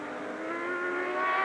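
Doran-Judd Ferrari prototype race car at Mid-Ohio, its engine note droning steadily and rising slightly in pitch as it accelerates, loud and close throughout the short stretch.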